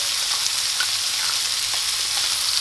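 A seasoned hamburger patty frying in a pan, heard as a loud, even, continuous sizzle with faint pops and no voices.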